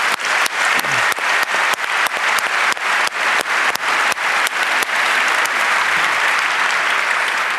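Audience applause at a Tor conference talk, steady dense clapping that opens with sharp rhythmic beats and settles into a sustained wash of hands, close and loud throughout.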